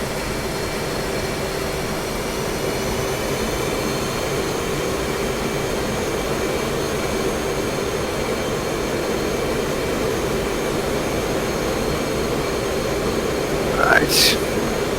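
An FA-18C jet engine in a flight simulator holds a steady, loud whining roar with a constant hum throughout, and a short rising chirp near the end.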